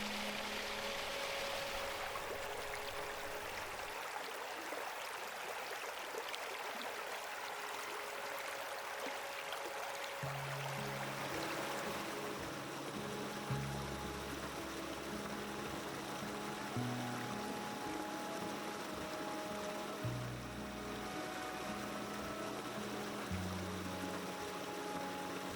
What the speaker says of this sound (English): Winter brings quiet stillness. The brook edged with ice, icicles forming on rocks and branches.